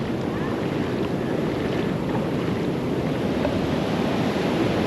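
Sea waves wash onto Guhagar beach on the Konkan coast in a continuous broad roar of surf, mixed with steady wind buffeting the microphone, with no pauses.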